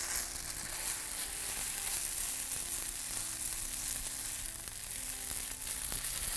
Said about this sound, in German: Am besten verwendet ihr fürs Anbraten einen Gummischaber, weil so zerdrückt ihr die Spätzle nicht zu sehr.